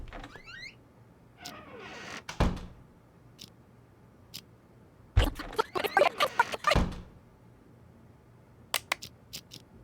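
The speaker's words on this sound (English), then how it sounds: "And close the door." A door closing in an eerie drama scene: a single hollow thunk, then a short burst of rattling knocks and clicks. A few faint ticks follow, with no talk over it.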